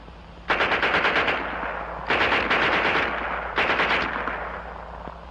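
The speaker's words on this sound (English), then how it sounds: "And here's their Schmeisser." A German WWII Schmeisser submachine gun fires three short bursts of rapid shots, each burst lasting about a second with pauses between, loud and sharp over a low background hum.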